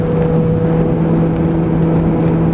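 Suzuki Bandit 600 motorcycle with a carburetor issue, its exhaust can burbling steadily at moderate revs during a ride, loud and continuous with wind rush and no talk.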